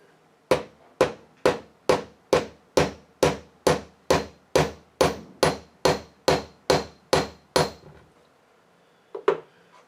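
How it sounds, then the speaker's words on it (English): A small hammer strikes a metal motor post supported on an anvil in a steady, even rhythm, about fifteen sharp ringing taps, then stops, followed by one faint knock. "if I don't support the post on the back side when I hammer on this"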